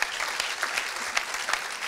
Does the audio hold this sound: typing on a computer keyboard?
no